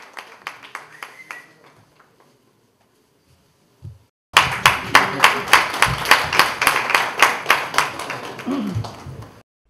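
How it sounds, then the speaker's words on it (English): Audience applause at an event with Shilpa Shetty and Ankit Tiwari: quiet murmur first, then loud, steady clapping from a crowd breaks out and continues with rhythmic claps to the end. "Let's have a huge round of applause, ladies and gentlemen."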